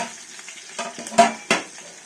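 Raisins frying lightly in a pan for Kanchipuram idli, a soft steady sizzle broken by a few sharp scraping stir strokes, close and alone.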